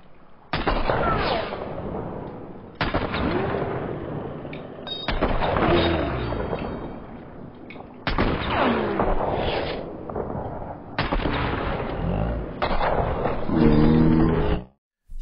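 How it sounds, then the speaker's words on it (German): Gunfire in the video game Hunt: Showdown comes as about six sharp, loud shots spaced a couple of seconds apart, each followed by a decaying reverberant tail. "die letzten Schüsse waren drauf"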